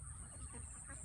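Ducks at a pond give soft, muffled honking and quacking calls amid steady outdoor background noise, brief and fairly faint.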